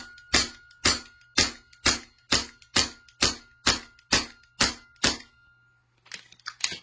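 A gun fires a full magazine of twelve rounds, sharp loud reports at a steady even rhythm, with scattered clatter after the last shot.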